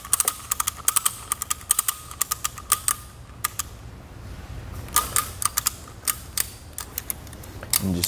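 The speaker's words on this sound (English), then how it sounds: "So just like a ratchet strap, start strapping it down." A ratchet strap tightens Konig K-Summit tire chains on a 2020 Ford Escape, making rapid bursts of sharp plastic-metal clicks in quick uneven runs, close and fairly loud, with brief pauses between the bursts.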